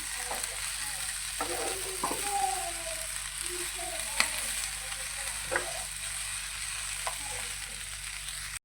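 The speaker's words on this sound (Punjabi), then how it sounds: "ਤੇ ਇਹਨੂੰ ਇਸ ਤਰੀਕੇ ਨਾਲ ਹਿਲਾਉਂਦੇ ਰਵਾਂਗੇ ਭਿੰਡੀਆਂ ਨੂੰ" Okra (bhindi) frying in a pan, a soft steady sizzle with scattered spoon scrapes and knocks as it is stirred now and then, close and moderately quiet, no voices.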